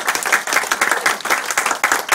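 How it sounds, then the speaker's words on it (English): An audience at a speaking event breaks into loud, steady applause, many hands clapping in dense waves close by with no voices over it. "Let's give him a round of applause."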